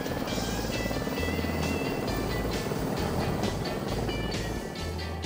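A utility helicopter takes off again in mountain rescue work with stretcher lines slung underneath. The rotor beats in a steady, heavy throb with a whining turbine on top, loud and sustained throughout, and no voices.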